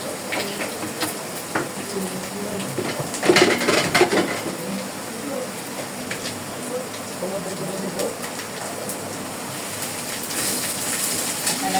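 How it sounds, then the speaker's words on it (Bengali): Spices and red chilli powder sizzling in a pan with red leafy greens and small fish, a steady crackling fry with occasional scrapes and clinks of a spoon against the pan, close and continuous. "ভালো করে মশলাটা ভেজে নেব।"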